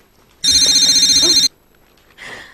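A telephone rings indoors in a home, one loud electronic ring lasting about a second, followed after a short silence by a fainter second ring.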